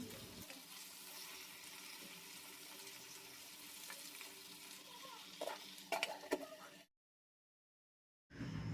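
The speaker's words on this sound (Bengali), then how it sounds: "এইভাবে কিন্তু চিংড়ি মাছগুলো উল্টে পাল্টে ভেজেও নেওয়া হয়ে যাবে আর মশলাটা ভালো করে কষানো হয়ে যাবে।" Large prawns fry and sizzle in a pan with spices, turned over now and then; a steady crackle holds for about seven seconds with a few louder stirring clatters near the end, then stops briefly before resuming.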